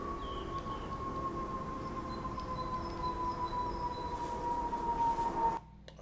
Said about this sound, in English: what exactly is creating this steady, high-pitched hum